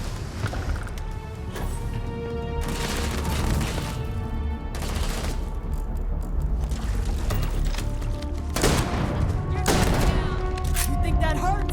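Gunfire in the sci-fi game Starfield, repeated sharp shots and volleys spread through a busy combat mix over several seconds, with shouted voices in between.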